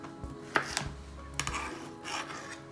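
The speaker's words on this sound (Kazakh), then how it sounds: "Міне біз сәбіздерімізді дәл осылай қалыңырақ және де ұзынша қылып тураймыз." Carrots sliced lengthwise into thick strips with a knife, likely on a board while making plov, giving a few irregular soft thuds and cutting scrapes up close, fairly quiet with no talk.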